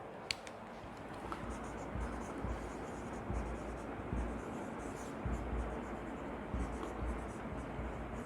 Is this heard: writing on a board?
yes